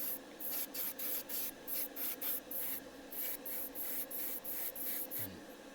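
Clear coat sprayed onto a Hasegawa Lancia 037 rally model body in a quick series of short, regular hissing bursts, close and steady, with no talking.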